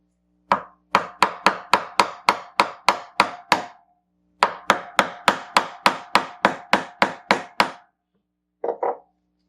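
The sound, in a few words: driving an engine seal in with a 36mm socket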